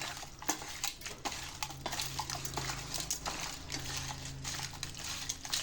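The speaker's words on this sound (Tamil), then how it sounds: "இப்போ எல்லாத்தையும் நல்லா மிக்ஸ் பண்ணிடலாம்." Raw goat meat being mixed by hand with turmeric and rock salt in a metal bowl, soft wet squelching and repeated clinks against the vessel, close and steady, no talking.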